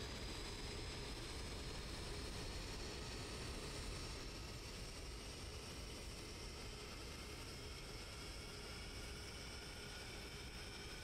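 Aircraft engines spooling up in a flight combat game, a steady droning whine with rising tones, faint and continuous, with no talking.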